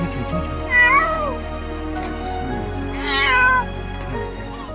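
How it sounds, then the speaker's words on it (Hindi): A cat trapped down in a drain cries out in two long, loud, wavering meows a couple of seconds apart, close and echoing slightly, with no one talking. "एक नाले में यह बिल्ली गिर जाती है और ऊपर नहीं आ सकी। बेबस होकर यह रोने लगती है"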